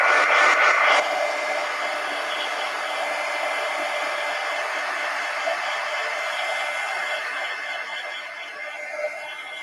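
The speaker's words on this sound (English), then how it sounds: "let me hit it with the heat gun" A heat gun blows steadily for several seconds to dry marker coloring in an adult coloring book, a continuous loud whooshing hiss with a slightly louder start, no talking over it.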